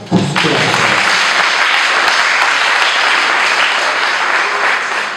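Sustained applause from a church congregation, many hands clapping in a loud, even roar that starts abruptly and holds steady to the end.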